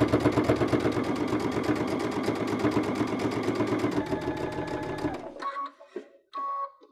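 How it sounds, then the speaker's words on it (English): A sewing machine stitches double welt cording with a double cording foot, running in a steady rapid rhythm for about five seconds before stopping, followed by a few short fabric and handling sounds. "I'll sew just a few stitches"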